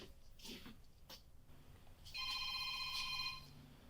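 A telephone rings faintly at a distance, one electronic trill lasting about a second and a half after some scattered quiet knocks and rustles.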